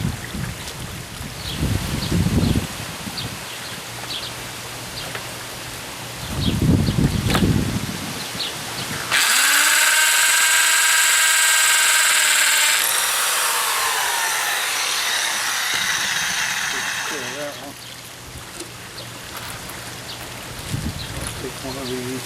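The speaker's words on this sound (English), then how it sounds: "We drill a hole" A power drill boring a hole during a pond repair, running steadily for about eight seconds as a loud whirring burst with shifting pitch, between stretches of outdoor handling noise.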